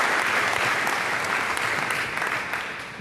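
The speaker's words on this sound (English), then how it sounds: "Let's give a big round of applause to all the girls and all the folks involved, all the parents." Sustained applause from a pageant audience at the 2012 Miss Dubois County 4-H Fair, a dense, steady wash of many hands clapping that stays loud throughout and tapers slightly near the end.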